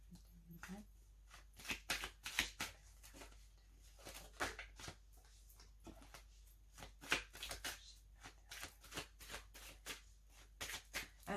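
Tarot cards are shuffled and cut by hand at close range, a long run of quick crisp riffling bursts and taps separated by short pauses, with no voice over them.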